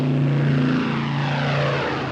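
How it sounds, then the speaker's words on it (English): A propeller airplane comes in from the west over Kleinmachnow on approach to land at Tempelhof in Cold War Berlin, its loud, steady engine drone filling the whole stretch with no one speaking. "Every 45 seconds, airplanes from the west came over Kleinmachnow, over the High Party Academy, in order to land in Tempelhof."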